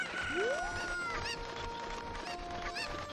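Cucco chickens from the Zelda game Ocarina of Time cluck in a steady, busy stream of short squawks, with a rising synthetic chirp near the start and no voices over them.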